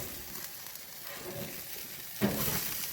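Steak sizzling on a grill over indirect heat, a close, steady crackling hiss that swells louder and brighter near the end, with no voices.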